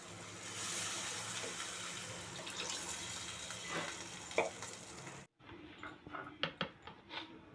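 Water is poured into a pan for making upma, a steady splashing rush that runs for several seconds, then stops, followed by a few softer sloshes and clinks.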